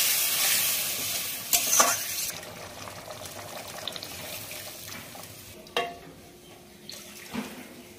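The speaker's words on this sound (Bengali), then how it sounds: "তরকারিতে জল দিয়ে দিলাম পরিমাণ মতো, আর একটু জল দেবো।" Water poured into a simmering bhetki fish curry in a pan, a steady wash of sizzling and bubbling with a few splashy bursts as the liquid hits, close and continuous.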